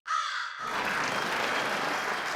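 A crow caws loudly and close, a harsh drawn-out call starting abruptly, then giving way to a steady burst of applause-like noise that lasts to the end.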